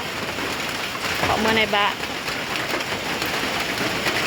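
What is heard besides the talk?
rain falling beside a chicken coop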